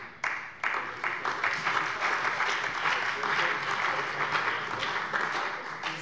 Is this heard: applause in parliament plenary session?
yes